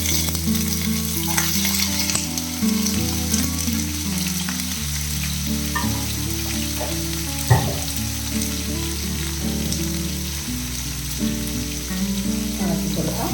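Washed, chopped vegetables sizzle steadily in a hot pan for a Kerala mezhukkupuratti stir-fry, with a continuous close fry and occasional soft clinks of stirring.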